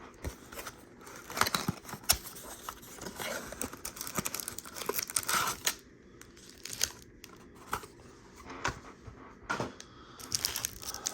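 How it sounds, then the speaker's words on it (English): Thick plastic wrapping on a Topps Chrome basketball hanger box crinkles and crackles close up in irregular bursts, with sharp tearing snaps scattered throughout and no voices. "Topps is not fooling around with this plastic. That is some thick plastic."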